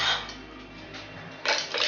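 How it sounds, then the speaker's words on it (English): Metal rings being screwed finger tight onto canning jar lids on quart jars of sausage breakfast, giving soft metallic scrapes and clinks at the start and a louder pair of clinks near the end. "Now the rings, you don't have to put them on super tight, just finger tight, just like that."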